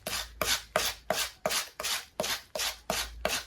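Onion rubbed against a hand grater in about ten even, rhythmic rasping strokes, close and crisp with no speech.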